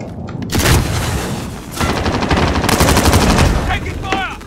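Bursts of automatic gunfire and explosive booms in Call of Duty Warzone, loud and dense, with a brief pause before another sustained volley; a voice speaks near the end.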